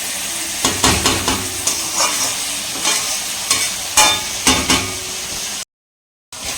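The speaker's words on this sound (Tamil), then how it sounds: "தக்காளி வெங்காயம் நல்லா வந்து பாருங்கள் இந்த மாதிரி தொக்கு மாதிரி வந்து வதங்கிடுச்சு" Tomatoes, onions and ginger-garlic paste sautéing in a kadai for meal maker chukka: a steady close sizzle broken by repeated spatula scrapes and clacks, cut by a brief silent gap near the end.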